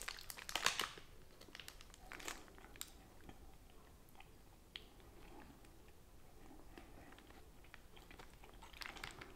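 A Greggs paper food wrapper crinkles close up as someone eats from it, with sharp rustling bursts at the start and end and quieter chewing and paper sounds between.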